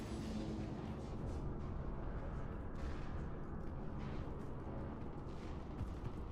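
Grenade explosions and heavy combat in Mass Effect 3 make a dense, continuous rumbling roar of blasts and gunfire, loud and unbroken across the whole stretch.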